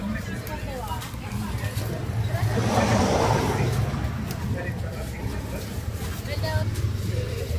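Cars pass on a street beside a food stall in Las Colinas, Managua, as a continuous traffic rumble that swells around the middle, with people talking over it.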